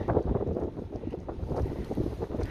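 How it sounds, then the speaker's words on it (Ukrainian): Strong wind gusting outdoors on a sunny early spring day after heavy snowfall, a steady roaring buffet with rumbling microphone noise throughout and no voices. "вітер віє капець який"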